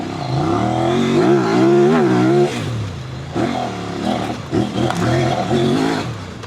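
A Kove rally motorcycle engine lugging at low revs, a loud close-up rumbling drone that rises and falls with the throttle and then settles into uneven chugging pulses.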